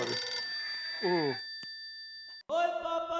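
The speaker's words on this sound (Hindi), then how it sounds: "और इतनी जोर का रिंगटोन साइलेंट पे कर" A loud phone ringtone plays in a family sitcom scene, its steady electronic tones sounding briefly, then a second burst of ringing follows after a pause, with voices around it.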